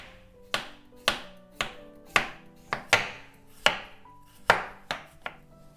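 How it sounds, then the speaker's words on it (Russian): A knife slices potatoes into rounds on a cutting board, about ten crisp, evenly spaced thuds up close, each ringing briefly before the next cut. "760 граммов картофеля я нарезаю кружочками."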